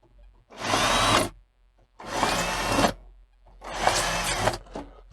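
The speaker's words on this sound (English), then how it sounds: "I put about 12 holes just through the bottom" Three separate bursts of an electric drill boring drainage holes through the bottom of a polystyrene plant pot, each whining run about a second long with short quiet gaps between, close and fairly loud with no talking.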